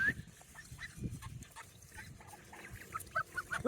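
Geese honking at a backyard pen where ducks are also kept, scattered short calls at moderate distance with faint intermittent honks, no talk.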